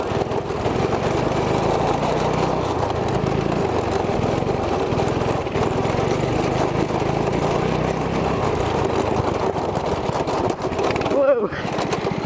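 A go kart with a 212 engine runs steadily throughout, a loud continuous motor drone close by, with a brief sharp disturbance near the end.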